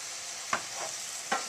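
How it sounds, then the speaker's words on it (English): Tibetan meat and cabbage shaptse is stirred in a pan with stock, with a steady close sizzle and a few distinct scraping strokes of the utensil. "Then mix it."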